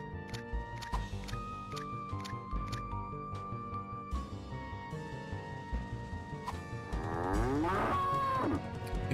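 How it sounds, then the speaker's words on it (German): A cow moos repeatedly in the video game Herc's Adventure, with game music and clicks underneath and a long, loud, swooping moo near the end. "Ich hoffe nicht, dass die Kuh sterben kann."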